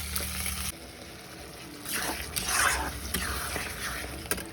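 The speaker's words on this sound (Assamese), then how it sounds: "মোৰ মাছ ফ্ৰাই হৈ আছে" Oil sizzles softly as fish fries, a steady crackle with a few louder bursts and a faint clink near the end.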